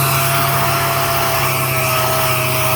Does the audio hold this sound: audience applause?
no